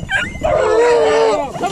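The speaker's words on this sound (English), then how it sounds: "Big man about to let his dogs out." Hunting dogs being let out for a frosty-morning rabbit hunt whine and yip eagerly at close range in one drawn-out, rising and falling cry.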